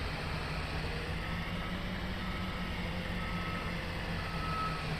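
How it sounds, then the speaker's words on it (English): The reverse beeper of a Berkshire 2021 C2 bus in a video game sounds a steady, evenly spaced run of tonal beeps over a low engine hum, loud and close, with no voices. "the reverse beeper sounds were taken from a Berkshire 2021 C2"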